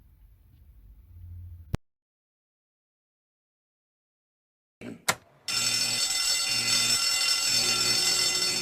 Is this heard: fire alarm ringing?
yes